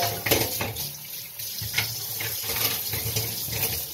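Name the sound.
water running from a tap, rinsing out cans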